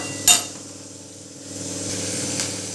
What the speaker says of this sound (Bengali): লো ফ্লেমে রেখেই আমি এটা ভালো করে আরও 30 থেকে 40 সেকেন্ড মতো ভালোভাবে নেড়ে নেব